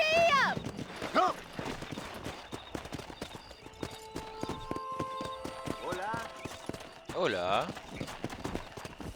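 Horse hooves clip-clop steadily while riding in Red Dead Redemption, with a horse whinnying briefly and characters talking over the hoofbeats.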